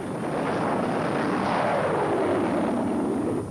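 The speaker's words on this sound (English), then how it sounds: "But the tiltrotor is quiet," NASA's XV-15 tiltrotor aircraft passes overhead with a steady rotor and engine drone that swells slightly as it nears and then eases, fairly loud and alone.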